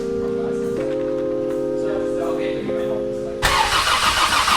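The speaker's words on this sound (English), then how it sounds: "We're cranking way faster now." A Barra-swapped Ford GT350 engine cranks on the starter with a steady, droning whine that shifts pitch midway, then a loud, harsh burst of noise takes over near the end, with voices likely present.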